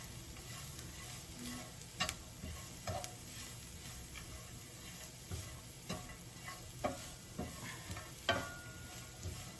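Food fries in a pan, a steady sizzle broken by intermittent scraping stirs and clinks, close and fairly quiet with no voices.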